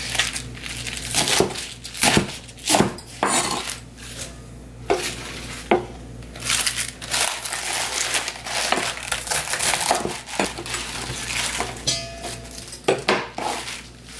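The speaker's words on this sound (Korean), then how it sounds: "한번 크게 먹기 좋게 이렇게 썰어주시면 돼요" A knife chops spring cabbage (bomdong) into large pieces on a cutting board, sharp irregular crunching strokes close by, loud and spaced unevenly.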